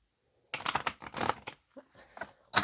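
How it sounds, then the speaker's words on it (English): Tarot cards being shuffled by hand, a few bursts of riffling and flicking with short pauses between them, close and fairly loud with no talking. "Oh, I'm not the best shuffler, guys."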